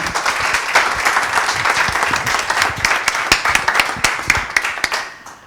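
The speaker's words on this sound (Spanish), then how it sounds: "Un aplauso también para Maribel." Audience applause for Maribel, the next presenter at a Spanish book talk, a dense wash of many hands clapping steadily at close range, with a few sharp individual claps standing out before it thins at the end.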